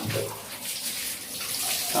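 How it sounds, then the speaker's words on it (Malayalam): Water splashes and runs as a puppy is bathed, a close, uneven sloshing with brief louder surges. "ചക്കിപ്പണ്ണിനെ കുളിപ്പിക്കാൻ കയറ്റി."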